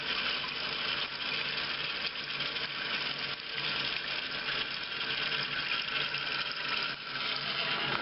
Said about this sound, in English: See how water's flowing in.